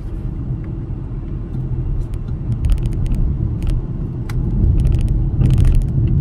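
A Volvo car on adaptive cruise control follows a truck at a steady distance, its road and engine rumble continuous and close, with brief rattles and tire noise rising slightly toward the end.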